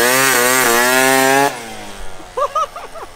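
A 72cc Honda Elite Dio scooter engine revs loud and close for about a second and a half with a rising, wavering pitch, then drops away. Faint chirping sounds follow over a quiet idle.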